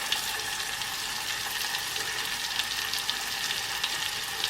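Onions and garlic sizzle steadily in a hot frying pan, a dense continuous crackle with small pops, close and fairly quiet, with no talk over it.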